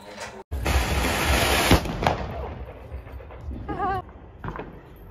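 Firecrackers burst during a festive outing, with a loud crackling barrage of close pops and bangs that dies back into softer scattered cracks and background noise.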